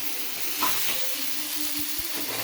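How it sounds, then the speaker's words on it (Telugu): Fresh coriander leaves fry in hot oil in a pan, giving a steady close sizzle and crackle with faint stirring scrapes and a couple of soft knocks. "కొత్తిమీర కూడా ఎంత బాగా ఫ్రై అవుతుంది కదా చక్కగా"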